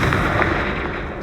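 Explosive spell blasts from Confringo and Bombarda in Hogwarts Legacy, a brief loud crackling burst with blast rumble filling the moment.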